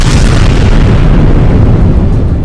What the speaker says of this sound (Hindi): ताबड़तोड़ हमलों की वजह से वहां तेज धमाके होते दिखाई दिए